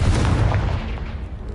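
A Confringo fire spell blasting a blocked stairwell in the video game Hogwarts Legacy, a single loud, booming explosive burst with a heavy low rumble that fades over about a second.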